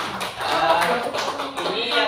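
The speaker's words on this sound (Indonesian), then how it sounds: "Tepuk tangan dulu." A group claps hands in a dense, steady patter during a workshop discussion, with voices talking over the applause.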